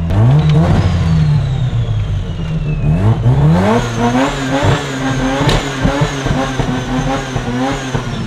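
A built Mazda RX-7 engine revs hard on a dyno, loud and close, with its pitch repeatedly climbing and dropping through sustained high-rpm pulls.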